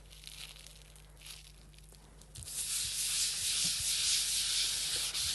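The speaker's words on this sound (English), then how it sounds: "Give it a little scour. It's damp, it's not soaking wet." A damp ceramic kiln shelf is scoured with a hand scourer, starting with light intermittent rubs and then becoming a loud, continuous gritty scraping over the second half, close up and alone.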